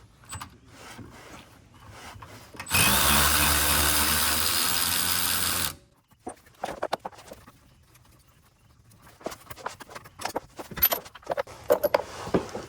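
Aftermarket Prothane sway bar end links come off with 9/16 tools: a loud, steady three-second burst of power-tool noise, then scattered metallic clicks, ratcheting and clanks of hardware being handled nearby, with no talking.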